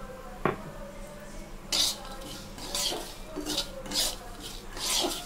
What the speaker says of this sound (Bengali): হালকা করে আমি নাড়বো এটাকে। একটা সুজির কাঁচা গন্ধ থাকে, সেটাকে আমি নাড়ছি।